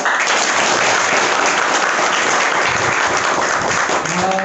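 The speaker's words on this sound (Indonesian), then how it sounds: "Boleh tepuk tangan buat" Audience at an alumni podcast gathering applauding, a loud unbroken burst of many hands clapping throughout, with a voice briefly starting up near the end.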